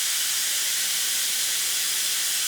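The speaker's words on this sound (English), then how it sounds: "In order to operate the steam, you just turn this knob forward right here." The steam wand on a dual-boiler espresso machine hisses in a loud, steady and close jet of steam with no pauses or talking.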